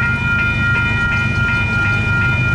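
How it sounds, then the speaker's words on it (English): A westbound Union Pacific freight train of empty coal cars rolls past in Kirkwood, Missouri, a loud steady rumble with a regular clickety-clack of wheels over rail joints and a faint ringing tone above it, no voices. "we got a westbound Union Pacific freight train coming."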